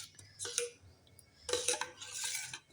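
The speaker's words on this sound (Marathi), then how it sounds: "हा थोडासा मसाला दुधात टाकून घ्यायचा आहे." A spoon stirs paneer tikka masala into milk in a bowl, giving two bursts of close, bright metallic scraping and clinking against the vessel with a quiet pause between them.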